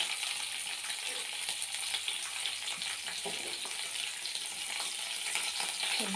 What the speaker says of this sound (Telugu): ఎండుమిర్చి, చూడండి ఎలా చిల్లుతుంది